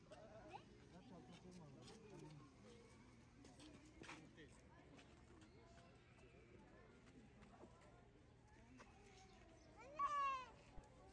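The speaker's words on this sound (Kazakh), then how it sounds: "Koyun oğlum o koyun." Sheep bleating nearby with faint scattered animal sounds, and people talking quietly throughout. One clearer, louder bleat comes near the end.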